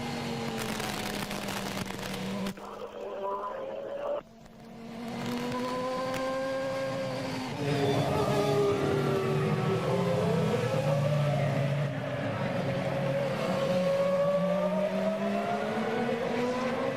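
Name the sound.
Formula 1 car driving at Monaco Grand Prix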